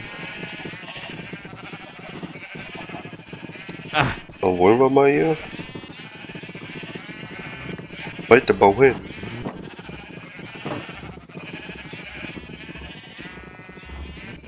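Minecraft sheep bleat in two short bursts among farm animals in the game, while someone talks throughout over soft background music.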